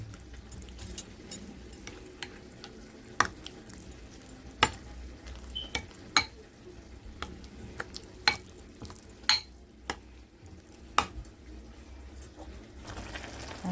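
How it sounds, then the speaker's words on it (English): Fresh parsley is stirred into cheese in a bowl, a soft continuous mixing scrape punctuated by about a dozen sharp utensil taps against the bowl at a fairly regular pace, close by. "I'm mixing this all up."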